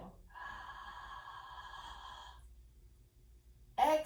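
A slow, deep breath drawn in during a yoga breathing exercise, a steady airy hiss lasting about two seconds, close and soft, followed by a quiet pause and a brief sharper sound at the end.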